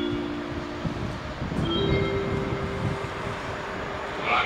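A train rumbles and creaks at the main station in Pardubice, Czech Republic, with steady low mechanical noise and brief high tonal squeals, no talking.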